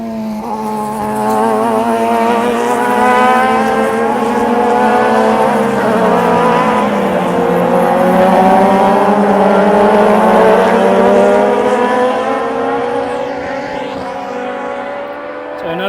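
Radical race cars sweep through a corner at Sydney Motorsport Park, their engines a loud, sustained, high-revving drone that rises and falls in pitch as they pass near, then fading slightly at the end.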